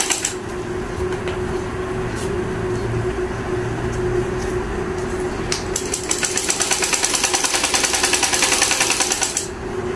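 Sewing machine stitching a sleeve onto a small doll's dress in a village home, a loud continuous mechanical rattle with a brief slowdown before speeding into a fast rhythmic clatter, no talk.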